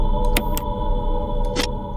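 Menu click sounds from the Resident Evil HD video game, several short sharp high-pitched ticks over a steady electronic background hum, with one brighter, longer blip near the end.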